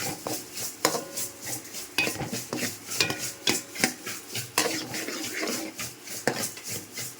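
Ingredients for a Rajput-style fish curry are fried in a pan until golden, with a utensil scraping and stirring in a steady rhythm of loud, close metallic strokes over a soft sizzle.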